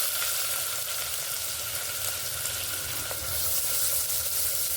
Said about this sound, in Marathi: त्यानंतर लगेच कांदा टाकणार आहे.